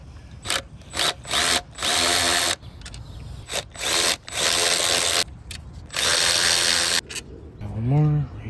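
A power tool, likely an impact driver or drill, runs in repeated loud bursts as it backs out the 10 mm bolts holding the mass air flow sensor on a 2002 Mitsubishi Montero Sport, with brief pauses between bursts.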